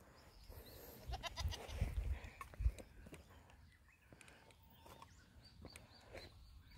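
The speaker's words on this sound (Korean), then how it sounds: "우리 염소가 또 기도 끝나고 집에 가는데 또 와서." A young horned goat grazing near a small urban veranda vegetable garden bleats faintly several times in quick succession, distant and low against quiet outdoor background noise.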